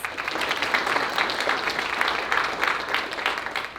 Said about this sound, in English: Can we give them one more round of applause, please?